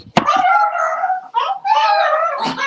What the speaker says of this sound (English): you hear our little chihuahuas? Look at them. They're having fun over there.